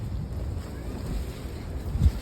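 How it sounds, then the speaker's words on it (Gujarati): Wind blowing near the sea in a village, a steady low rumble buffeting the microphone throughout, with a stronger gust swelling near the end. "પવન આવે છે દરિયો છે બાજુમાં"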